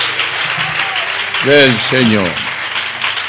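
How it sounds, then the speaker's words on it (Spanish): A church congregation applauds in a continuous wash of clapping beneath someone speaking loudly in Spanish from the pulpit, his voice rising above the steady applause. "Recibe ese aplauso de cariño, de amor que tu pueblo te rinde"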